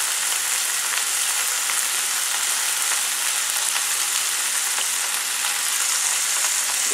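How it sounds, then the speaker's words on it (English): Hot oil in a pan gives off a loud, continuous sizzle with faint crackling spatters throughout, close up and with no talk over it. "the last remaining parts of the oil is just frying it"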